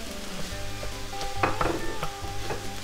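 A pound of ground turkey sizzles steadily in a pan with garlic while a utensil stirs and scrapes it, close and continuous with occasional clinks against the pan.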